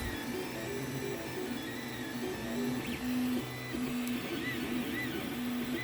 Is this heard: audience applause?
no